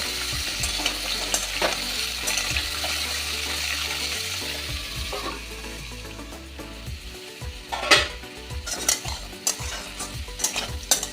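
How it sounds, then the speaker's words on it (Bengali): Papaya and potato fry noisily in a pan, a steady sizzle mixed with repeated scraping and stirring knocks close by. "একটা গোটা পেঁপে কেটে দিয়ে দিয়েছি এটা ভেজে নেব একটু লবণ ছিটিয়ে ভেজে নেব"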